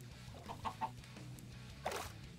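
Minecraft chickens cluck in a few short, close calls, a quick cluster early on and another sharp cluck near the end over a steady low game background.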